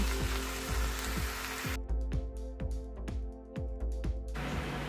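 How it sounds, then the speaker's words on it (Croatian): Onions fry in a pan, a steady close sizzle running the whole time with regular spoon scrapes or stirs recurring about every half second. "Luk ćemo propržiti nekih 10 minuta, pa ćemo dodati posle papriku."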